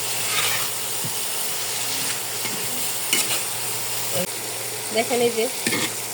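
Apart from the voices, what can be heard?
prawns frying and stirred with spices in a pan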